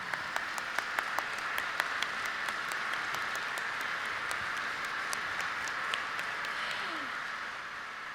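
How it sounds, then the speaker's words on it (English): An indoor audience at a mantra chanting festival applauds a performance team, with steady, moderately faint clapping that holds for several seconds before gradually thinning out. "Please once again give the 야단 법석 team a big round of"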